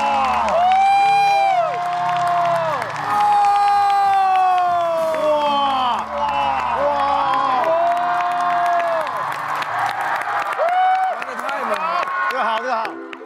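An audience claps and cheers for performers on a televised stage competition show. Sustained applause with whoops blends with loud ringing music or voices throughout.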